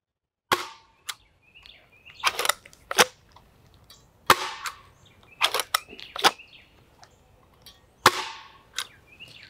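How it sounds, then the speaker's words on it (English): A 3D-printed gun fires shots down range outdoors, giving about eight sharp, loud cracks at irregular intervals, some with a brief echoing tail, and no talking. "So let's fire a few down range."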